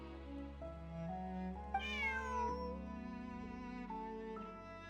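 A video game cat meows in several drawn-out, rising and falling cries over soft background music. The sound is fairly faint and close, with no talking.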